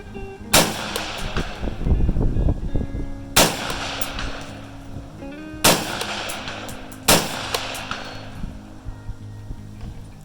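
Rifle gunshots at an outdoor range, 5.56 caliber, four sharp loud reports spaced a couple of seconds apart, each followed by a brief echoing decay.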